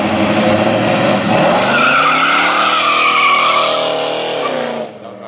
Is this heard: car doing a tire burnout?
yes